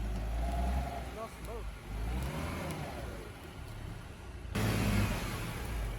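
A vehicle rolls over an off-road trail at Eglin Air Force Base, its engine revving and rising under a nearby voice, with a louder surge of engine and rumble near the end.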